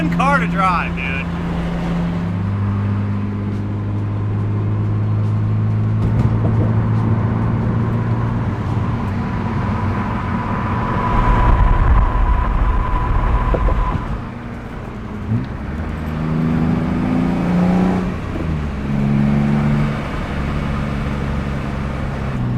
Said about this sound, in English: Such a fun car to drive